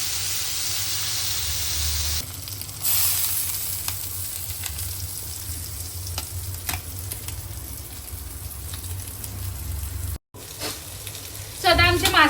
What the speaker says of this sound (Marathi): तर आता मासे एका साईडने मस्त फ्राय झाले आहेत. आता आपण त्यांना दुसऱ्या साईडने फ्राय करू.